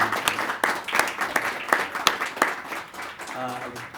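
An audience at a panel event on learning to read breaks into a round of applause, rhythmic clapping that pulses steadily and rises and falls over a few seconds.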